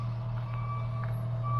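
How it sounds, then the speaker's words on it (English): A loud truck idles with a steady low engine drone, and faint, evenly spaced reversing beeps sound above it throughout, with no talk. "you hear that loud ass truck"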